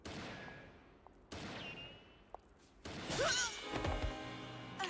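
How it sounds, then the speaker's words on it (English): Sniper gunfire in the PS2 video game Resident Evil Outbreak: three sharp, fairly faint shots about a second and a half apart, followed by busier in-game clatter. "You hear a sniper and you just waltz around Linda?"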